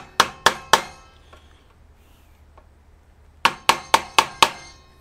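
A small hammer taps metal tabs on a 1970 Honda motorcycle fork, three quick sharp strikes, a pause, then a run of five more evenly spaced taps, close and crisp, no talking.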